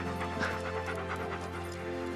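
A dog pants steadily close by in quick, rhythmic breaths over a low background hum, with no talking.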